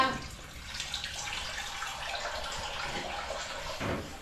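Strong water gushes from a tap in a steady, close rushing hiss, with a couple of soft knocks near the end.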